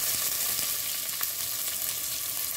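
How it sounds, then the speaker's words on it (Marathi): Chopped onion sautés in a pan with garlic, giving a steady, close sizzle with faint stirring, alone and with no talk. "लगेचच आपण कांदा टाकून देऊया।"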